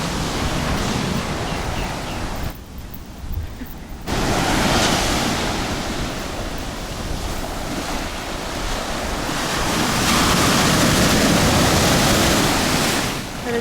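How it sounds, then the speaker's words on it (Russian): Powerful ocean waves break on a Seychelles beach in a loud, continuous roar of surf, mixed with heavy wind buffeting the microphone and a short quieter dip partway through, with no talking. "Сказали, что сегодня такая погода, что волны мощнейшие."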